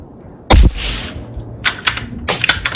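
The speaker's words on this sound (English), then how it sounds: "now we've got the HUXWRX 22 suppressor" A 17 HMR rifle fired through a HUXWRX 22 suppressor gives one sharp, loud muffled crack followed by a short hissing tail, then clattering handling and bolt clicks nearby.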